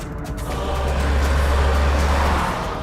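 A car is driven fast, its engine a loud, deep roar that builds, holds steady and then drops off near the end, heard from close by with no talking.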